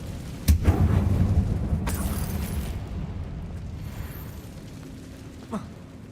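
Confringo blasting spell in Hogwarts Legacy inside an abandoned mine: a sharp explosive boom followed by a long rumbling, crackling roar that slowly fades, with a faint later pop.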